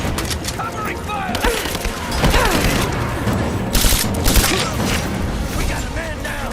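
Gunfire during combat in the video game Rise of the Tomb Raider, a loud barrage of shots and blasts with mechanical clatter, while voices shout over it.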